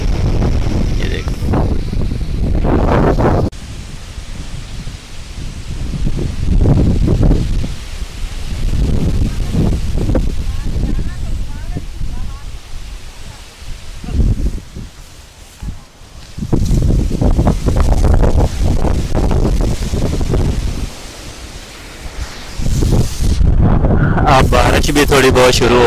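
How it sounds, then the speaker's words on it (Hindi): Strong storm wind gusting through jamun trees during a java plum harvest, a loud continuous broadband rustle of leaves that swells and eases in waves, with people talking over it at times. "अब फिर हवा की शिद्दत बढ़ रही है"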